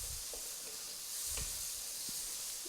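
Pad thai noodles searing in a wok, a steady close sizzle with a few soft stirring scrapes, no talking.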